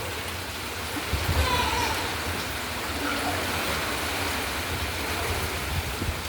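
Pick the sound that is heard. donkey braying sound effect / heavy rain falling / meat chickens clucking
heavy rain falling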